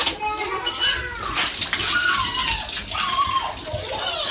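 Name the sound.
water tap running to wash mangoes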